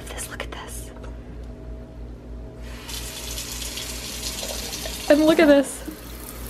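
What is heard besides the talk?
water running from kitchen sink faucet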